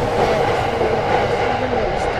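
An E231 series train passes near Oku rail depot, a loud continuous rumble of wheels and rail with steady clatter running the whole time, no talk over it.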